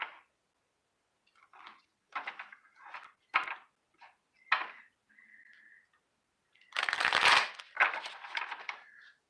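Tarot cards being shuffled and handled in bursts of riffling and rustling, with short pauses between handfuls and a louder flurry near the end, close and clear with no talking.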